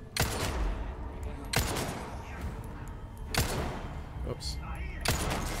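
Loud pistol shots from the Red9 in the video game Resident Evil 4 Remake, four heavy reports spaced over a few seconds, with a brief spoken word between them.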